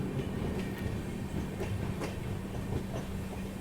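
Indore Amritsar Express rolling along the tracks near a junction, a steady loud rumble of railcars with faint rhythmic clickety-clack of wheels over rail joints throughout.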